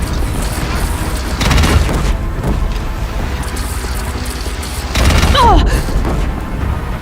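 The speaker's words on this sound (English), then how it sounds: "Deathbringer fire incoming!" A Deathbringer machine in Horizon Zero Dawn fires explosive rounds. Heavy booms land in two loud bursts amid rumbling game noise, with a brief sweeping tone near the end.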